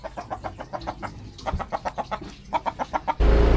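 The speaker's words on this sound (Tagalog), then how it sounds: "Kababait ng manok nila oh." Chickens cluck in a quick, steady rhythm of short repeated calls, close by, ending in a burst of louder noise.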